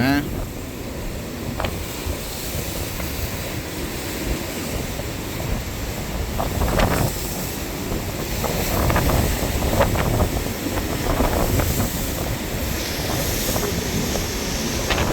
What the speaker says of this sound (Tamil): இதுக்குள்ளே அந்த தண்ணி நின்று கொந்தளிக்குது